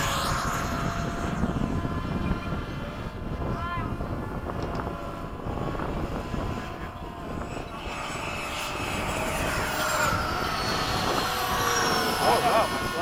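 A Freewing RC model jet, an 80mm-class ducted-fan aircraft, roars past in a low pass with a steady, loud whine under wind noise and swells louder toward the end, while people talk over it.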